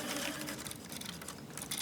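A sewing machine runs steadily, stitching a jersey fabric top one centimeter from the edge, a continuous close whirring hum with no pauses.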